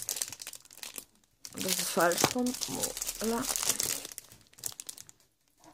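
Crinkling paper from a one-kilo craft pack of eight designs, rustling and crackling loudly in close bursts as the sheets are handled, while a voice speaks briefly over it.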